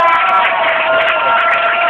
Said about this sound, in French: oh, on applaudit très fort.